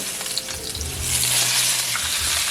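A T-bone steak hitting a hot pan as it is flipped, the loud, close sizzle swelling and holding as a dense bright hiss after a brief clatter.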